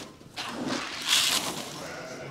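Sheep bleat a couple of times, moderately close, with a brief louder bleat near the middle over faint farmyard background.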